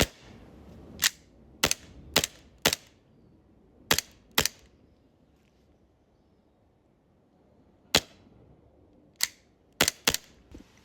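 A VPX gas blowback airsoft pistol fires sharp, loud single shots in irregular bursts of two to four, with short quiet gaps between groups; the strong blowback gives each shot a crisp snap.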